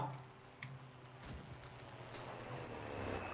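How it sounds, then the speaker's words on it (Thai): A muffled explosion goes off in the World War II shooter game Enlisted, a single sharp burst followed by a low rumbling tail under faint background battle noise. "ระเบิดแล้วทุกคน"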